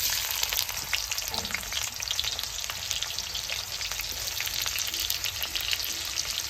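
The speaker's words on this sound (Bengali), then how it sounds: "তেল দিয়ে দিলাম, এবার পেঁয়াজ দিচ্ছি।" Onion dropped into hot oil in a pan over a wood-fired stove, giving a steady, dense, loud sizzle that continues unbroken throughout.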